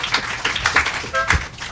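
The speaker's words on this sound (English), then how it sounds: "They deserve a wonderful round of applause" Applause at a reopening ceremony, a brief burst of close, dense hand clapping that sounds loud and busy.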